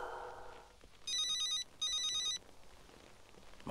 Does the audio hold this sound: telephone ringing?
yes